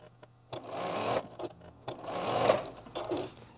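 A sewing machine stitches small 1.5-inch quilt squares along their long edges in two sustained runs of steady motor whirring, with brief pauses and short bursts between them, heard close and without any talking.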